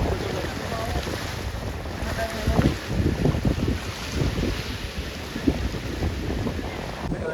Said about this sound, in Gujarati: મસ્ત દરિયો છે ઠંડો પવન આવે છે